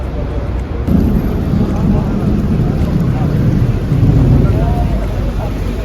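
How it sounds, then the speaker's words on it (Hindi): Rain falls in Makkah in the evening, a dense, loud wash of steady patter with low rumbling underneath that swells around the middle, close and continuous with no talk heard. "आज बारिश स्टार्ट हो गई है मक्का में।"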